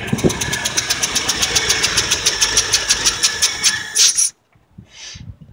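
1978 Ford F150 engine running near the microphone, a rough, rhythmic idle with a regular ticking knock pulsing several times a second, then cutting off abruptly, leaving near silence and a faint clunk.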